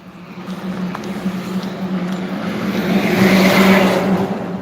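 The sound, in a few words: trucks passing on a multi-lane road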